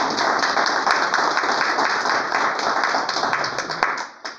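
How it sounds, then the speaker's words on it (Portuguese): A group clapping in praise for Jesus during a Portuguese-language religious talk, steady dense applause throughout, close and loud, tapering off at the end. "Palmas para Jesus."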